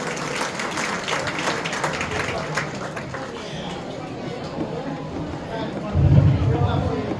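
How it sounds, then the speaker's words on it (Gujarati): Audience at a temple festival gathering applauding the newly named chairman of the assembly, a steady broad patter of many hands, with chatter mixed in and a louder thump near the end. "તાળીઓથી વધાવો"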